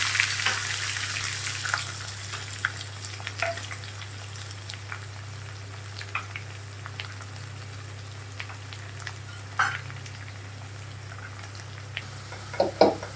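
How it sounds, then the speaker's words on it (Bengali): Chopped onions dropped into tempered spiced oil in a home kitchen, a faint crackling fry over a steady low hum, with scattered pops and a few louder clinks near the end, no voices. "এতে দুটো তিনটে পেঁয়াজের কুচি আছে ভালোভাবে সেটা দিয়ে দেবো"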